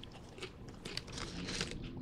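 Lay's black pepper potato chips crunch and crackle as they are chewed, a close, continuous run of crisp bites with no talking.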